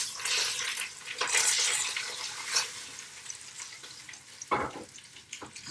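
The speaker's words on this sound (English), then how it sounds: "So now we're ready to give our meat a shake to see if that sear is formed nice and good for us." Tri-tip pot roast sears in a pan that is shaken, giving sizzling and frying hiss with scraping, shuffling bursts and a sharper clatter near the end.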